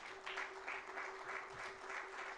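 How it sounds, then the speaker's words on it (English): Applause from an audience at a conference opening ceremony, honoring the headline sponsor Helios Towers; steady, fairly faint clapping with a constant tonal hum underneath, no voices. "Big round of applause for Helios Towers."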